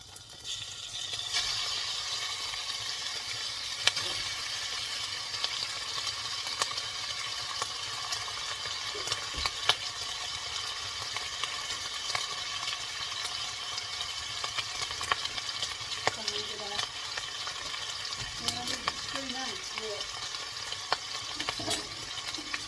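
Bacon frying in a heated pan makes a steady, dense sizzle that runs throughout, with occasional utensil clinks and stirring sounds close by.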